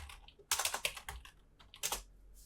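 Quick bursts of computer keyboard typing a search for hiking sticks on Amazon Japan, a rapid run of key clicks, a pause, then another short flurry, close and fairly quiet.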